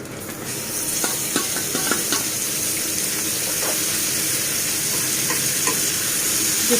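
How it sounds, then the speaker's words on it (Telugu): Minced meat (keema) tipped into a hot pan for a keema ghee roast, sizzling and frying steadily while a spoon scrapes and stirs it, close and continuous with no voices. "మనం శుభ్రంగా క్లీన్ చేసి పెట్టుకున్న కైమాని ఇందులో యాడ్ చేసేద్దాం"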